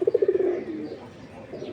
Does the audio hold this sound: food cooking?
no